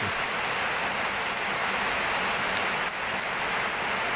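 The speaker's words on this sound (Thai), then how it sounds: "มีฝนยังตกอยู่เลยครับดู" Steady rain pours down, a dense continuous hiss of drops hitting surfaces nearby, with no one speaking.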